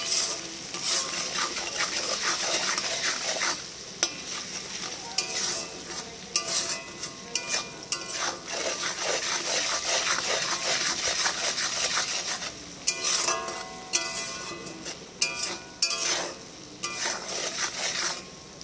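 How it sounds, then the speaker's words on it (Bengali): Spices with salt and cumin powder being stirred in a pan, a dense crackling sizzle under frequent scraping and rubbing strokes of a spatula against the pan, close and continuous throughout without any speech. "পরিমাণ মতন লবণ, একটু জিরে গুঁড়ো, সব দিন নাড়াচাড়া করবো।"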